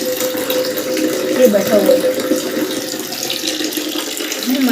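Water running from a kitchen tap into a vessel, a steady close rush of flow with someone speaking briefly over it.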